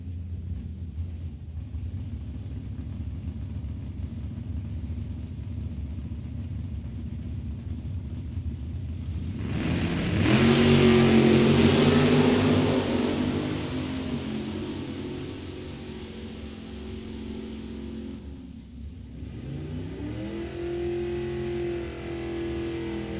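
Camaro drag car launching and accelerating down the strip at a drag racing event: a broad roaring rumble that surges loud around the middle, engine tone climbing, then fades and cuts back as the run ends, heard from the stands.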